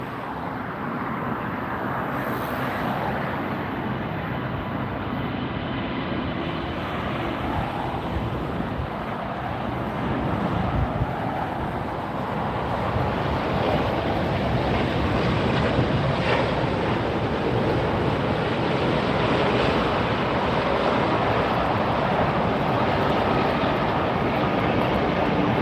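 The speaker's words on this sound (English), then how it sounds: "Here it comes. A380, British Airways." A British Airways Airbus A380 landing at LAX, its broad, steady roar building from a distance and holding loud and continuous, mixed with wind buffeting on the microphone, with no talking.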